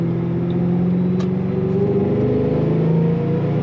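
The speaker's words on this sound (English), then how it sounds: "You really just want to keep giving it throttle, but since I'm on a public street, I better take it a little easy" A supercharged 2006 Ford Mustang Saleen S281 coupe accelerates on a public street, its engine giving a steady, moderately loud rising hum heard from inside the car.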